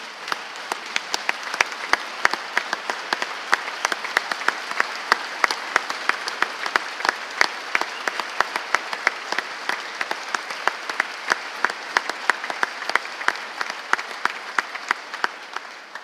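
Sustained applause from a large audience at the Missouri State of the State Address, steady clapping with sharp individual claps throughout, continuing without a break.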